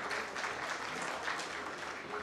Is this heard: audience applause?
yes